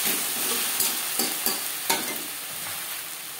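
Spices being stirred and fried in a pan for a Bengali moong dal khichuri, a soft steady sizzle with a few scraping stirs of the spoon standing out, close and moderately quiet, no talking.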